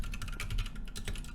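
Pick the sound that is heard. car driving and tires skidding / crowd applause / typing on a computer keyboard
typing on a computer keyboard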